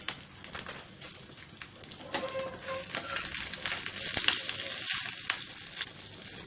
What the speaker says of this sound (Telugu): ఎండుమిరపకాయ ముక్కలు, కరివేపాకు, చిటికెడు ఇంగువ వేసుకొని వేయించుకోవాలి.